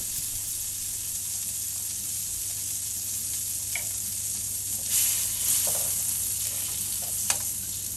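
Butter melting in a hot pan for tuna pasta gives a steady, close, bright sizzle throughout, with a few small pops and a brief surge of crackling partway through; no talking.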